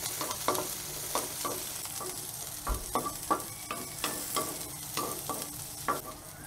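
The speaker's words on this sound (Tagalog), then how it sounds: "Lagyan na po natin ating bawang at sibuyas. Gisa-gisa." Garlic and onion sauté in a hot wok, sizzling steadily while a utensil scrapes and stirs them in repeated sharp strokes, loud and close, with no voices.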